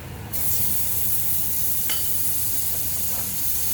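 Butter sizzles steadily in a hot pan as the base for mushroom bruschetta, a continuous bright frying hiss starting after a brief quiet moment and holding even and close throughout, with a few faint clinks.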